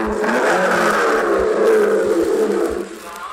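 Stirling Moss's racing car rolls into the pit area, its engine a loud, steady close roar with a falling whine that eases off toward the end.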